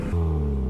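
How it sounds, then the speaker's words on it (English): A 1993 Mazda Miata drift car's exhaust rumbles loudly at close range, holding a deep steady drone after a brief rise at the start. "we're gonna do a few revs of the exhaust"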